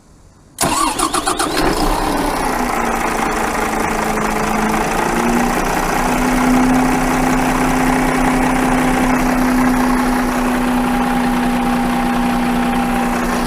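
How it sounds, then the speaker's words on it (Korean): A 2021 Daewoo Prima 15-ton dump truck diesel engine, started from an outside button, cranks and catches with a loud rumble, then settles into a steady, heavy idle with a low hum, close by. "한번 눌러서 시동을 걸어 보도록 하겠습니다"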